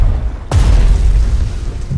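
A tank's shot explodes in the strategy game Strategic Mind: Fight for Freedom, a single sudden heavy boom followed by a long, loud, rumbling low tail.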